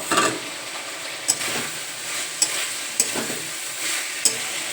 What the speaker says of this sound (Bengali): এবারে যে ভেজে রাখা ইঁচড় আলু এটা আমি এর মধ্যে